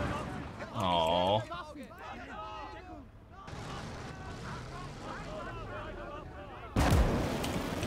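Artillery firing in the World War II video game Gates of Hell, several deep booms and a sharp final blast mixed with battle noise and engine rumble, with someone talking throughout.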